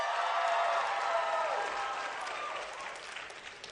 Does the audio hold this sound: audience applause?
yes